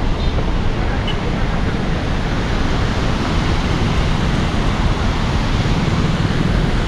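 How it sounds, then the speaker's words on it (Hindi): Water gushes out of the Maneri Dam in Uttarakhand as a loud, unbroken roar of rushing flow that fills the whole stretch, close and constant. "और देखो किस तरह पानी निकल रहा है पूरा मनेरी बांध के 2 किलोमीटर में"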